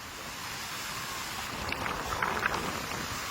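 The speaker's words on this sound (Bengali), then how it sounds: "ঢেউ চলছে।" Steady rushing sea waves wash continuously on a storm-battered island coast, with a soft roar and gusty wind noise, a few brief splashes rising near the end.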